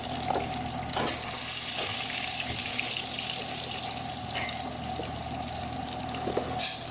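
Chicken popcorn frying in a pan, a steady close hiss and sizzle with scattered crackles and pops throughout, no talk.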